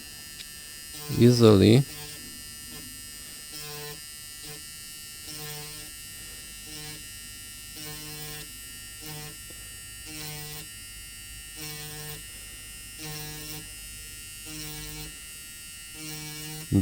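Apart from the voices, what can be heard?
Dremel grinding iPhone 12 Pro board pads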